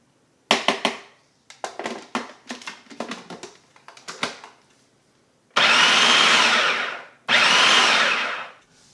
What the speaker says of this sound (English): Alright, let's pulse it one more time here.